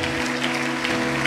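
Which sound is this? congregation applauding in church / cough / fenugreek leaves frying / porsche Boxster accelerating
congregation applauding in church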